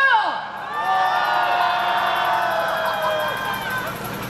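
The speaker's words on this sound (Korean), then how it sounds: "함성 한번 치러볼까요?" A crowd at an Incheon candlelight street rally demanding a president's ouster lets out a loud, sustained roar of shouting voices, swelling over the first second and holding steady before tapering slightly.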